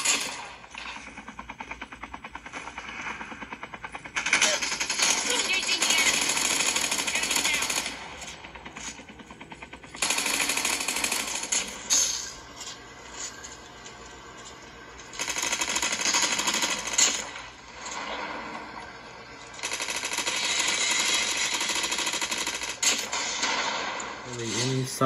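Rapid automatic gunfire from the mobile game COD Mobile, played in battle royale mode on a Nubia Red Magic 5G phone. Loud sustained bursts of several seconds each alternate with quieter gaps across the stretch.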